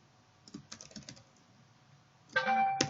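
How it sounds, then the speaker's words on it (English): Computer keyboard typing, with a quick run of close keystrokes early on, a pause, then a brief louder burst of key presses at the end. "I'm going to type this: if"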